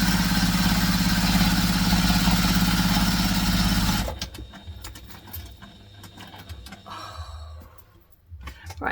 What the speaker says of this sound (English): So we're going to stitch across the top.